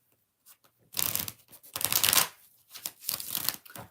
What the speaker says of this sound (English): Let's shuffle it one time.